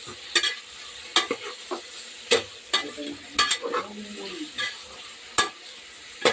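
Tomatoes dropped into a hot pan for a biryani made with ration raw rice, giving intermittent clattering stirs and spoon knocks over a low, steady sizzle at close range.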